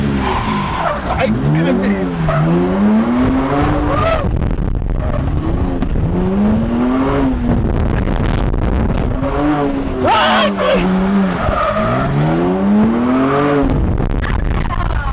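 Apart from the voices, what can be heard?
car drifting with tires skidding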